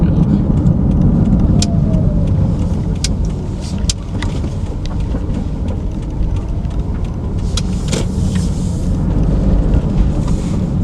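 A car is being driven, with a steady low engine and road rumble filling the whole stretch, close and loud, with occasional sharp clicks and knocks from inside the cabin and no talking.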